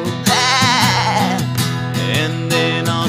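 A voice imitates sheep bleating with wavering, drawn-out baas, sung loud and close within a cheerful farm song over steady musical accompaniment.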